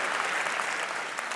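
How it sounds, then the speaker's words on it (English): Brief burst of audience applause at a business talk on sales versus marketing, a steady crowd clapping texture lasting just over a second. "Can't we give it up for that, like applause or something?"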